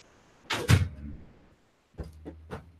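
A door at home is pushed shut with a heavy thud and rattle, and after a brief pause the latch clicks twice as it settles.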